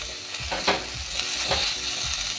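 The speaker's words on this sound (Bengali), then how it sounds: "বেগুনটা কিছুক্ষণ নেড়ে নিয়েছি, এবার দিয়ে দেব স্বাদ মতো লবণ, হলুদ, একটু লঙ্কার গুঁড়ো," Eggplant with peanuts cooking in a pan as salt, turmeric and chili powder are added, giving a steady sizzle broken by a few soft stirring scrapes, close and alone.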